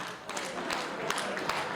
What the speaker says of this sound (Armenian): ծափահարությունները, հարազատները ջան, սիրով մեր նորապսակների պատվին են